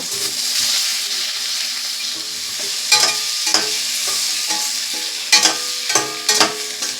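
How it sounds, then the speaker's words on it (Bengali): Continuous sizzle of turmeric-coated potatoes frying in oil left from frying stingray, punctuated by several scraping stirs of a spatula against the pan. "এই মাছের তেলের মধ্যেই আলুটাকে আমি ভেজে নিচ্ছি।"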